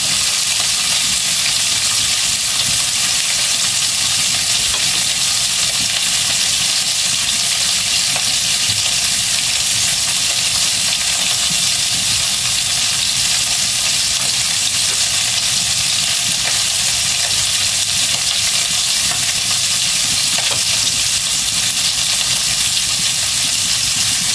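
Plum pork ribs fry and brown in a hot pan, giving a loud, dense, unbroken sizzle heard up close for the whole stretch, a steady hiss of spitting fat with no voices over it.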